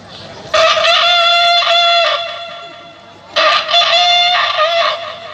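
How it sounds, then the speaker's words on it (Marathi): A rooster crows twice, loud and close, each call a long, strained cry with a pause between. "तर कोंबडा सर्वप्रथम कोंबडीला बोलवतोय"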